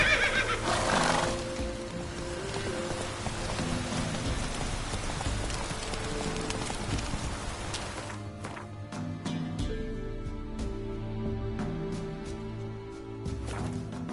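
Roach the horse neighs loudly in The Witcher 3, a long whinny near the start over steady rain and hoofbeats, then rain patter and scattered thuds continue alone.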